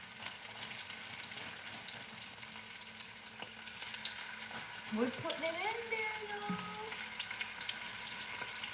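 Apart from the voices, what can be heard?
food frying in a skillet pan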